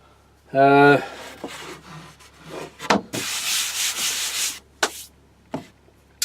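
Wood being hand-sanded with 80-grit paper for a scrap-wood side table, a steady close rasping rub in bursts separated by a few sharp knocks, with a brief tonal sound near the start.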